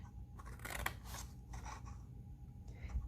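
Scissors snip through paper for a tab on a handmade treat box, with several close, crisp cuts in quick succession and no talking.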